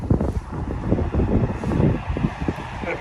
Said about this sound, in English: Bit windy at times